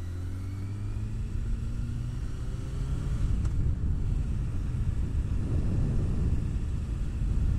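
A motorcycle rides along on a warm evening, its steady low engine drone and wind rumble filling the recording continuously and close, with a faint rising engine tone early on and no talking.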